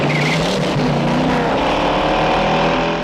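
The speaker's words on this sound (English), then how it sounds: "Each one of the cars has a special sound, a specific sound." Car sound effects from a film chase scene: a loud roaring engine rushes close by with a brief tire squeal, a short intense burst with no voices.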